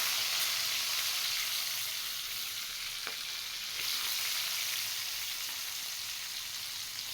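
Onion sizzles in hot oil along with bay leaves while a crab dish is cooked, a continuous bright frying hiss with a faint click partway through and no talking.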